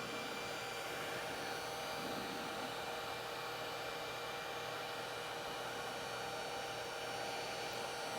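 A heat gun blowing hot air onto an arcade control panel to soften and lift its box art, a steady, even whooshing hiss holding constant from start to finish.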